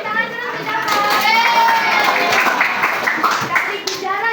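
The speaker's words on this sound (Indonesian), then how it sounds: "Kasih tepuk tangan dulu untuk Dapa" Schoolchildren in a classroom clapping together for a classmate, a lively burst of hand claps mixed with kids' voices and a teacher speaking over them.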